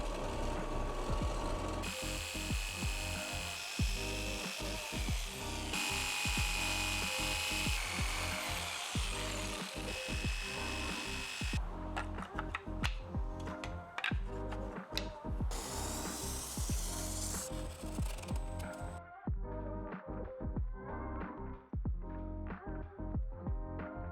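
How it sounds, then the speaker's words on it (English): Power tools cut away material from a homemade wing foil board, with long stretches of loud grinding and sawing broken by short pauses and rough scraping bursts, close and continuous. "In an attempt to save on weight, I cut away some material."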